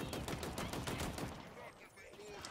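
Rapid bursts of gunfire crackle in Halo Infinite during a sniper headshot fight, fairly faint in the mix, with repeated shots for over a second before fading into quieter background game noise.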